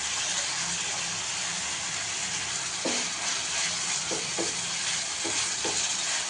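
Finger millet for ragi sangati fries in a pan with a steady, close sizzle. A few soft knocks of stirring break through the hiss.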